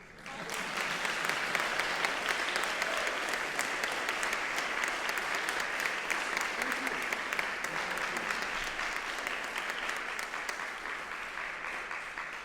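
Sustained audience applause fills a saxophone masterclass hall, a dense, steady wash of many hands clapping at even loudness throughout with no voices over it.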